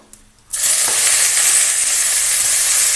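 Cabbage hitting hot oil already seasoned with panch phoron, dried red chillies and bay leaves, bursting into a loud, close sizzle after a quiet moment, then holding as a dense, steady frying hiss.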